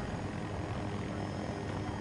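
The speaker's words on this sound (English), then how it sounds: "The way I'm driving this helicopter right now," A helicopter in the Battlefield 2042 video game flies with a steady, dense rotor and engine roar, constant and close throughout with no talking.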